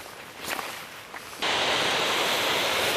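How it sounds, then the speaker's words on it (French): An outdoor waterfall (cascade) flows with a steady, broad rushing roar that swells suddenly partway through and then holds loud and constant, with faint rustling steps before it. "on voit que ça coule quand même là la cascade"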